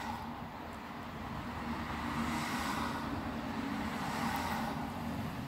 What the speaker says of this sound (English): you still get cars going by occasionally